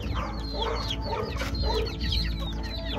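Backyard chickens, including a young rooster stag, clucking and calling close by over a dense, constant farmyard background, several overlapping birds heard throughout with no one talking.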